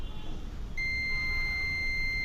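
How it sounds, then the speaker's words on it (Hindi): A multimeter continuity beep sounds on a shorted capacitor on an Oppo A78 5G phone board, a steady high electronic tone that starts partway in and holds without a break, loud and clean with no voice. "और देखिए इस कैपेसिटर में बीप का साउंड है।"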